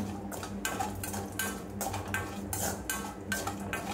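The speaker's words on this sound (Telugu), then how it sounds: "కొబ్బరి యాడ్ చేసుకున్న తర్వాత ఫ్రై చేసుకోవాలి మంచిగా" Grated coconut frying in a pan for meal maker curry, stirred with repeated soft scraping and clinking strokes over a faint background hiss, with no voices.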